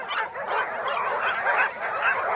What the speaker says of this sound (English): got a nice string of dogs